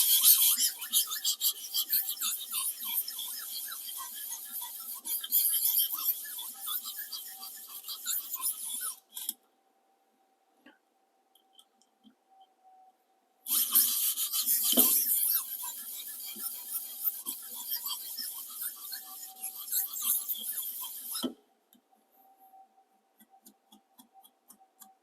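A meat slicer knife is stroked steadily on a 250-grit whetstone, a continuous gritty rasp in two long passes separated by a pause, close and alone.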